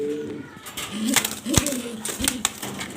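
Super Mili pigeons coo in short, close bursts with a few sharp knocks and clatters between them; no one speaks.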